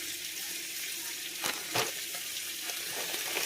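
Floured chicken thighs fry in a hot cast-iron skillet with a continuous bright sizzle. Two brief crackling bursts pop out midway, and no voice is heard.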